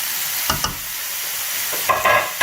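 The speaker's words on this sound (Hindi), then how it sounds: "इसमें हम गोश्त डाल के फ्राई करेंगे अच्छा सा" Lamb meat with ginger-garlic paste frying in a pot, a steady close sizzle broken by a few short stirring scrapes, alone with no voices.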